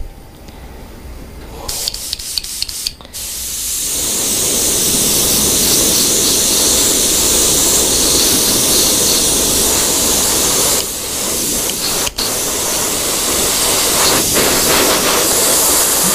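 Jet black Wicked paint airbrushed onto a hand-painted fishing lure, a long steady close hiss of spray that starts after a few clicks and runs on, briefly dipping and then resuming, with no talk.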